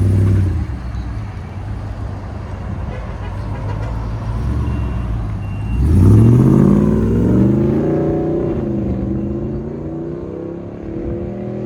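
A 2020 RAM 2500 with a 6.4L HEMI V8, Vibrant bottle resonator and rear resonator delete idles with a deep rumble, then revs up loudly once and falls back through a long, throaty decay.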